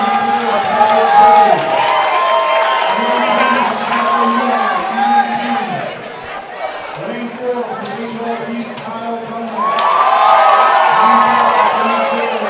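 Hometown crowd at the 2017 IHSA boys swimming and diving state finals, sustained loud cheering and shouting from a packed natatorium that swells near the end, with announcers talking over it.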